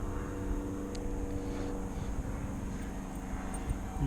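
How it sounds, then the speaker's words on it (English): An aeroplane passes high overhead as a steady, broad engine drone that holds evenly for the whole stretch, sitting in the background beneath the whir of a nearby DJI Phantom III drone. "aeroplane passing me"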